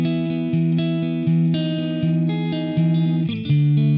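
Electric guitar through a free amp simulator plugin with cabinet simulation engaged, a smoother distorted tone playing a chugging riff with held notes and brief chord changes, loud and steady with no one speaking.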